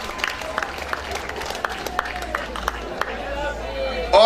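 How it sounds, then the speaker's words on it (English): A graduation audience applauds, scattered hand claps ringing out at a moderate distance over a low background murmur of the crowd. "Let's give everyone a round of applause."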